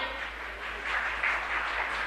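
A conclave audience at a political event bursts into applause, a dense, steady wash of many hands clapping that swells slightly toward the end, heard on its own without any speech.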